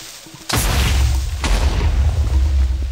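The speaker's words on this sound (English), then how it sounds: "Yeah, triple creeper explosion" Creeper explosions from the video game Minecraft in a ravine. A loud, deep boom hits suddenly, then a second blast follows about a second later, and a low rumble lingers.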